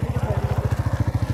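A motorcycle engine thumping in a fast, steady rhythm close by on a mountain road in Pakistan, loud pulses with someone speaking faintly over it.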